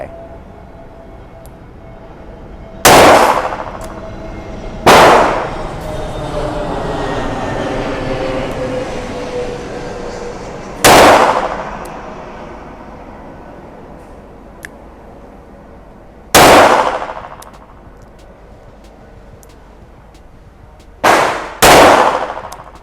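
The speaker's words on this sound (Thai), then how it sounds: "ผมจะยิงแบบดับเบิลแอคชั่นนะครับ ไปที่กึ่งกลางนะครับของตัวเป้า" Double-action shots from a Smith & Wesson M51 .22 Magnum revolver at a shooting range, six loud sharp cracks spaced unevenly, the last two in quick succession, each trailing off in a ringing echo.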